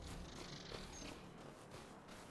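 Kittens about three months old purr close by in a quiet, continuous low rumble that keeps an even rhythm throughout, with no voices over it.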